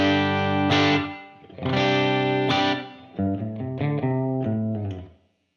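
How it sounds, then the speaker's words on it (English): Yamaha Revstar electric guitar playing chords and then a melodic run, with a quick slapback echo and a wash of reverb trailing each note, loud and clear. "then with the slapback and the reverb sounds like this."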